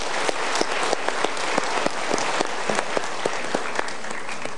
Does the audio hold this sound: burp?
no